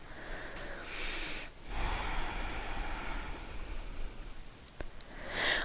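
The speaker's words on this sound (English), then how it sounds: "Take a couple of breaths." Deep, steady breathing during a yoga mermaid flow, in a forward fold over the front leg: slow, airy inhales and exhales, close and fairly quiet, with no talk over them.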